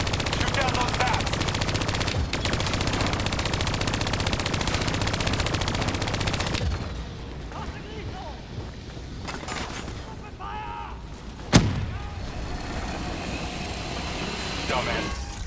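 Sustained turret gunfire in the Call of Duty: Black Ops III campaign, a loud continuous automatic barrage for about seven seconds, then quieter battle noise with a sharp burst near the end, under spoken dialogue.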